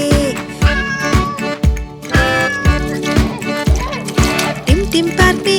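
Cartoon cat meows in a Hindi children's rhyme about a monkey teasing a cat in a park, several clear mews riding over a bouncy, steady musical beat with singing.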